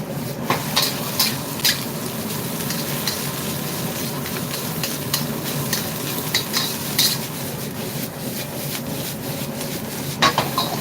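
Metal spatula scraping and stirring fried rice (nasi goreng mawut) in a wok, with a steady sizzle of frying food and occasional sharp clanks of metal.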